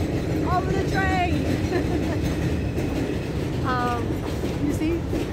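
A loud train rumbles past with clattering wheels and a steady roar, while someone talks underneath it.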